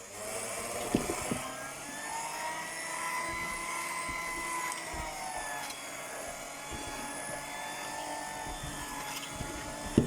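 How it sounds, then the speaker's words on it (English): A hand blender blending leek broth runs with a steady high-pitched motorized whir, with a few faint knocks and clatters mixed in close by. "And then we're going to blend it with the hand blender."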